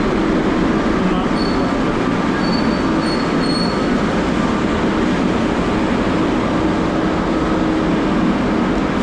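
A Rio de Janeiro metro train running, heard from on board near Jardim Oceânico station: a loud, continuous rumble and wheel roar with faint high squeals, steady from start to finish.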